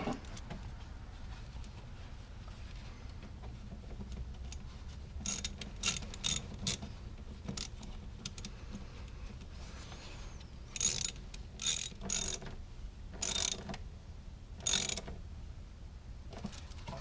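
A ratchet tightens intake clamps on a car throttle body, with bursts of quick clicking in short repeated runs over a faint low background hum, close by.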